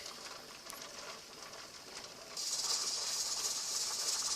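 Steady hissing steam from a weighted pressure canner canning dried beans, its weight starting to jiggle; the hiss grows suddenly louder and sharper halfway through, continuing as a constant hiss.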